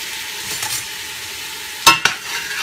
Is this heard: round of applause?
no